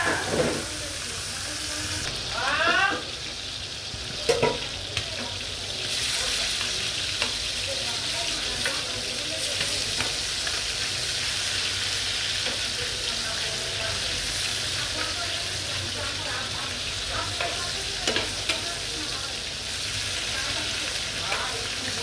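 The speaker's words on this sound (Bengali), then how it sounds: "সুন্দর করে উল্টে দেবো মাছটাকে ভালো করে ভেজে নেব আমি" Fish fries in hot oil in a pan, a dense, continuous sizzle and crackle running throughout, close and loud, with a few brief scrapes and clatters of turning the fish and occasional faint voices in the background.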